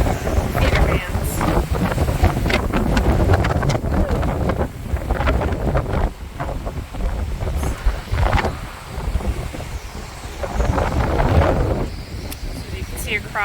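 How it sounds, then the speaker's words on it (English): Strong gusts ahead of Hurricane Helene roar and buffet the microphone beside a seawall canal, rising and falling continuously, with voices partly under the wind. "these gusts are pretty big"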